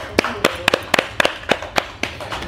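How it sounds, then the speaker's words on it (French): A small group of listeners claps after a book reading, about ten sharp, separate claps spread over two seconds, thin and sparse rather than a full ovation, close by. "On va applaudir."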